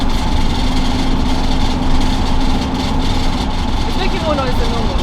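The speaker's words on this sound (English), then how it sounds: "It's kind of noisy when you're driving because stuff does move around." A camper van drives along a UK motorway with a loud, steady road and engine drone throughout. Faint rattling comes from loose contents inside the cabin.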